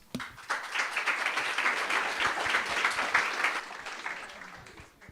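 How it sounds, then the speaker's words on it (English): A room full of people at a women in tech hackathon applauding, dense clapping that rises quickly and holds steady before tapering off near the end. "I would love to welcome to the floor with a round of applause, Agnes Jonāte"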